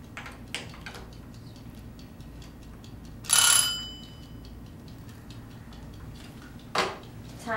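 A bell rings to signal that time is up in a children's puzzle test, a single bright, brief ring in the middle of an otherwise quiet room, with a few faint clicks before and after.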